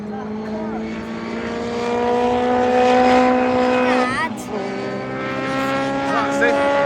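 A race car at Donington Park circuit whines past with rising and falling engine tones and a sharp Doppler shift as it goes by, while a commentator's voice talks over it.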